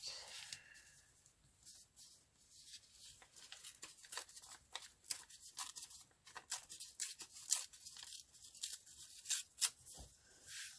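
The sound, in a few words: scissors cutting paper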